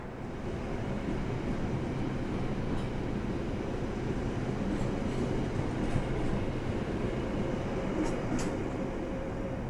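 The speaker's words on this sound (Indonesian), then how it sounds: "Yang berangkat lebih dulu kereta Pandalungan ya teman-teman." A continuous heavy rumble of a departing Indonesian passenger train (Pandalungan) rolling steadily along, loud and close, with faint clanks now and then.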